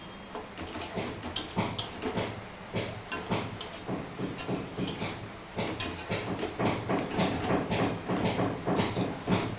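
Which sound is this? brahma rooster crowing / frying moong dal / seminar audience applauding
frying moong dal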